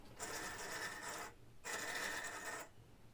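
An RC buggy's wheels and drivetrain spin together in two whirring, ratcheting bursts of about a second each, separated by a brief pause, quiet and close.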